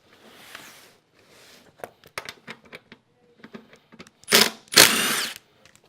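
Side bolts are taken off a 2000-2005 Honda S2000 seat with a 15 mm wrench, heard as close, crisp metallic ratchet clicks in quick runs, followed by two louder scraping rasps.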